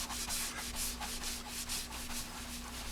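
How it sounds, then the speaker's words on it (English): Steady hand rubbing of polishing compound over a repaired Honda NS250R motorcycle fairing, a continuous close scrubbing hiss pulsing in regular back-and-forth strokes with a faint steady hum beneath. "The rubbing compound is good for getting down into the valley."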